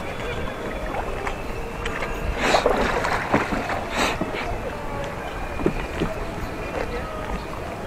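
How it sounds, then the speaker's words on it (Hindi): A rowboat on Naini Lake in Nainital, Uttarakhand, eased between moored boats toward the shore, with soft water sloshing and knocks over steady wind noise. "नावों के बीच में से रास्ता बना के किनारे तक हमारी नाव को पहुंचा रहे हैं"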